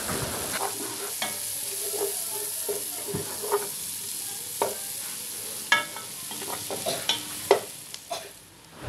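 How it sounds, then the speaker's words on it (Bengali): Chopped onions sizzle steadily in hot oil for a shrimp and egg pulao, with a broadband frying hiss throughout and scattered sharp scrapes and clinks of a spatula stirring the pan, close and moderately loud. "এবার গরম তেলে দিয়ে দিলাম পেঁয়াজ কুচি। পেঁয়াজ কুচিয়ে হালকা ভেজে নেব।"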